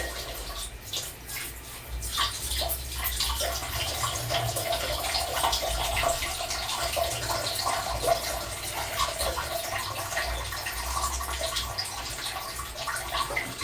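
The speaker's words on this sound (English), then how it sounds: "We got to hear the sound of him fucking pissing?" A man urinating into a toilet, heard as a steady, continuous stream of splashing water running for the whole stretch, fairly close and even in level, with no talk over it.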